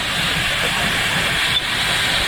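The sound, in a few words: 1891 steam engine hissing at a steam rally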